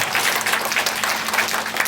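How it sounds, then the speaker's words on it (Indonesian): An audience at a business presentation applauds Wamor Internasional with steady, dense clapping that holds at an even level throughout. "Tepuk tangan dulu buat Wamor Internasional."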